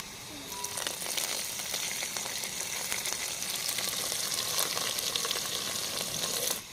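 Onions fry in a pan for quail biryani, making a close, steady crackling sizzle with dense popping that holds at a constant level, without any voices.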